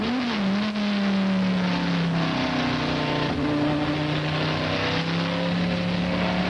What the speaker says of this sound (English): whistling down the front straight at Monza as fast as you like